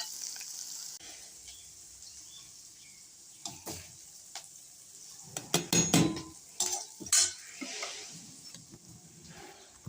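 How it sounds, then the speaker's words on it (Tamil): Soft scraping and clinking of a spoon stirring sautéed tempering into kuzhi paniyaram batter in a bowl, with a faint sizzle underneath and a few louder taps toward the end. "இதை மாவோட கலந்துக்கலாம்"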